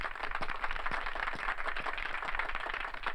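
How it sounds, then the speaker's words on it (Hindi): An audience claps together in steady, dense applause that carries on evenly for about three seconds, with no voices over it. "तालियां"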